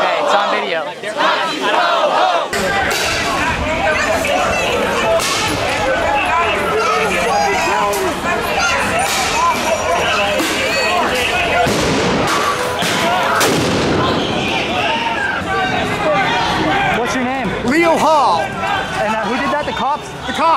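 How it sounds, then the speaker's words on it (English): Chaotic crowd of protesters yelling at a Portland street clash with police firing into it, sharp bangs and booms bursting amid continuous shouting and screams, loud and dense throughout. "New evidence of police shooting indiscriminately into the crowd"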